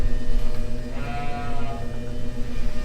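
Newborn lamb, small and about five pounds, gives a thin bleat in a freezing barn at minus 33°C, heard once amid steady low background hum and rustle.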